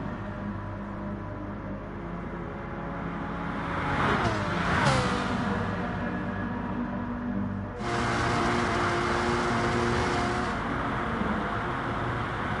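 A Ferrari in a racing video game roars steadily at full throttle, the engine note rising and shifting through gear changes, with a brief whooshing surge midway, loud and close.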